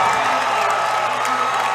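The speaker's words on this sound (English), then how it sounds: "The Galena crowd goes wild." The Galena crowd at a boys' high school basketball sub-state semifinal roars continuously after a made basket, a dense wash of cheering and shouting heard up close throughout.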